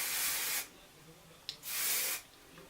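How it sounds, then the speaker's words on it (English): Tang hairspray sprayed over finished double Dutch braids: two steady hissing bursts of about half a second each, close and clear, separated by a short pause with a small click. "I do want to go back with my Tang hairspray,"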